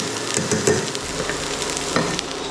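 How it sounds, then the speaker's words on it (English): Spices stir-fried in hot olive oil as a sweet and sour sauce begins, giving a steady, close sizzle with light stirring scrapes throughout. "Stir fry."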